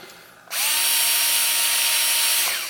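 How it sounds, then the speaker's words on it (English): Close-up power drill whine as a screw is driven into a Piezo20 module kit, a single loud burst that rises sharply, holds steady for about two seconds and tapers off, without speech. "So essentially just tighten all 4 of them down."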